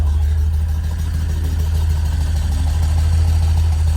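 A Datsun 240Z with a 170-horsepower engine idling steadily, a loud, close, even low rumble with no revving.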